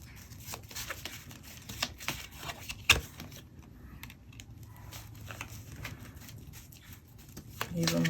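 Tarot cards are shuffled and drawn in soft, irregular riffles and flicks, with a sharp slap of a card partway through, close and fairly quiet.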